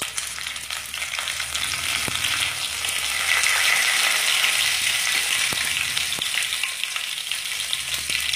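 Whole garam masala and two bay leaves fry in hot oil for a Bengali cabbage dish with rohu fish head, a loud steady sizzle throughout with occasional stirring clicks, no talk.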